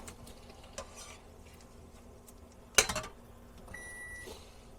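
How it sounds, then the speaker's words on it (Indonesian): Food fries in a pan in a small kitchen, a soft sizzle punctuated by scraping stirs and one sharp clatter of utensil on pan, with faint electronic beeps toward the end. "Lagi goreng soalnya ini. Takut gosong."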